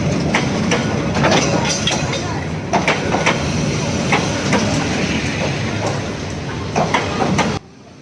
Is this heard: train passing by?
yes